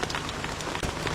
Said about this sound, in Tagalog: Lakas ng ulan sobra boss